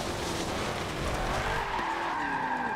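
Car tyres skidding in Forza Motorsport 7 as a drift slides out, a sustained squealing screech with rising and falling pitch over a steady engine drone, fairly loud and unbroken for a few seconds, no voices.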